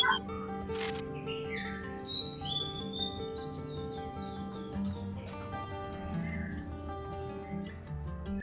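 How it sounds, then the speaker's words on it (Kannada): Morning birds chirp and tweet near a home a few kilometres from a railway station, with steady overlapping calls through the whole stretch and no talking. "ಅಕ್ಕಿಗಳು ಚಿಲಿಪಿಲಿ ಕೇಳೋದೇ ಒಂಥರ ಖುಷಿ ಮಾರ್ನಿಂಗ್ ಟೈಮಲ್ಲಿ"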